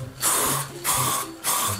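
Three short bursts of hissing spray from an aerosol can, each about half a second, evenly spaced and close to the microphone.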